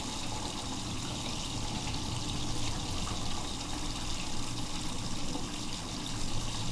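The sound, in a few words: hot water running from a sink tap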